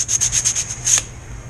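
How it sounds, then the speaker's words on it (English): Quick back-and-forth strokes of sandpaper put a small bevel on a part for a Zippkits G30 tunnel build: about six close, rhythmic rasping passes and then one final stroke before it goes quiet. "We're going to sand a bevel on this."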